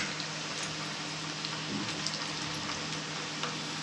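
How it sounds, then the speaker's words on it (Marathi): Boiled potato rings frying in hot oil in a pan over a high gas flame, a continuous dense crackling sizzle with occasional sharper pops, close and steady throughout. "तेल चांगलं गरम झालं आता आणि हे तळून घेते"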